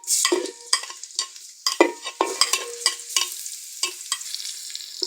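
Garlic and ginger paste frying in oil and ghee, sizzling steadily while a spoon stirs it with repeated scraping strokes and clinks, close and fairly loud, no talk.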